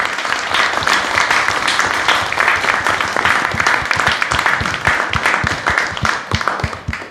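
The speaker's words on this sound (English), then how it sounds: "shall we have a round of applause for all of the participants?" Audience applauding participants at the close of an art and moral conscience forum, a dense, steady wash of many hands clapping throughout, tapering slightly near the end.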